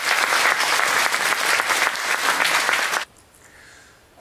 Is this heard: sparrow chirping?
no